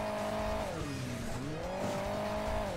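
A sports car in the Hill Climb Racing 2 video game, its engine humming steadily and loudly, with the pitch dipping and rising as it drives over the terrain, alone without talk.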